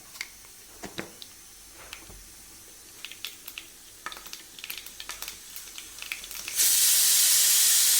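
Mustard seeds added to hot coconut oil give scattered small pops and crackles, then swell into a loud, steady, hissing sizzle near the end.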